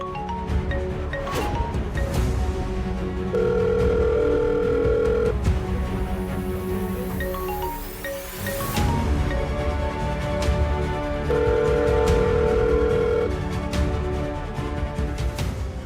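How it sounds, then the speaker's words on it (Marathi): A telephone rings with two long electronic tone bursts, evenly spaced and fairly loud, set against a busy, noisy background. "सावीचा फोन आहे."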